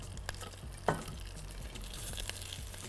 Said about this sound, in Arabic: شايفين صوت الطشطشه دي، هو ده اللي انا عايزاه بالشكل ده